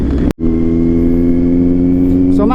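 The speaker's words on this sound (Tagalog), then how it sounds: "ganito naman yung sounds ng motor pag wala nakakabit na doon na mic doon sa may tambucho" A Kawasaki Z900 motorcycle engine and exhaust idle with a loud, steady drone, cut by a brief dropout near the start before the rumble resumes and holds evenly.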